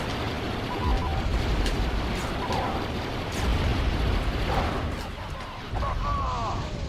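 Explosions in Star Wars Battlefront II Galactic Conquest, loud booming blasts over rumbling battle noise, with a player talking throughout.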